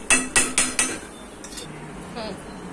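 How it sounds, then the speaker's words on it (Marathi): A cooking pan holding a field bean (val) and snake gourd curry is covered with a lid, giving four quick metallic clinks close by in steady succession, then a softer scrape and faint clatter. "आता ह्याच्यावरती आपण एक पाच मिनटं झाकून ठेवूया"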